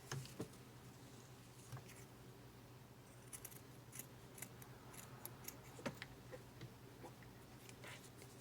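Scissors snipping through fabric half an inch from a stitching line for a zipper pouch, a run of small sharp close clicks and cuts at an uneven pace, quiet overall.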